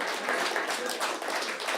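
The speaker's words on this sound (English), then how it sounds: "We must clap hands." An audience claps together at an NBC 35th-anniversary broadcasting celebration, a dense, steady patter of many hands filling the room for nearly two seconds without a break.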